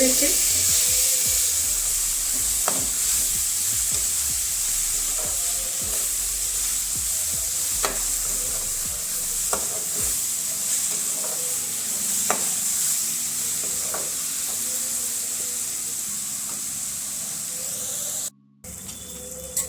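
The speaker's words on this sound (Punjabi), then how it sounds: "ਹੁਣ ਆਪਾਂ ਤੜਕੇ ਦੇ ਵਿੱਚ ਪਾਲਕ ਨੂੰ ਪਾ ਦੇਵਾਂਗੇ" Spinach crackles in a hot tempering for a spinach and turnip curry, a loud, steady hiss of frying that lasts throughout, broken by occasional stirring clicks and ending in a brief cutout.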